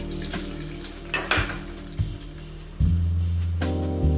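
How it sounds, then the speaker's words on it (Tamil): Sago pearls tipped into hot ghee in a kadai for javvarisi kesari and stirred, with a few metallic scrapes and knocks over a low steady hum, then a louder sustained frying hiss near the end. "நெய் நல்லா சூடான ஜவ்வரிசி போட்டுக்கணும்."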